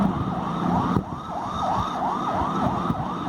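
An ambulance siren in a car-driving and parking video game wails in a steady repeating rise-and-fall pattern over a low engine hum, fairly quiet and with no talk.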